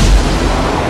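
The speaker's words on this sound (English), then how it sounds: "the fighter pilots, led by the president trying to seal his next campaign poster, fire their missiles at the ship" A film battle scene as fighter jets fire missiles at an alien ship, a loud low boom with rumbling blast noise filling the whole second.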